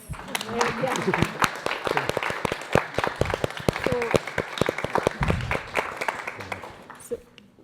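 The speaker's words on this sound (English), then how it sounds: "this calls for a bigger round of applause" An audience at a talk on sustainability and social entrepreneurship in India applauds, sharp individual claps rising and falling in a lively, uneven burst before trailing off.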